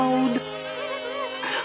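Cartoon bees buzz around a honey tree in a steady, droning hum that holds through the whole moment, loud and close.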